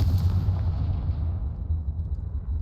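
The Confringo blasting spell explodes in the Hogwarts Legacy video game: a deep, heavy boom whose low rumbling tail rolls on and slowly fades over a couple of seconds.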